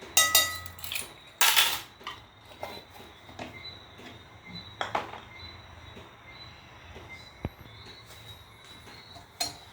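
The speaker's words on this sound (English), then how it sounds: "So right now Thais is whisking the flour mixture together, and then we'll be going to the stand mixer" A whisk mixes a flour mixture in a bowl with uneven metallic clinks and scrapes, louder at first and then lighter and scattered, close by.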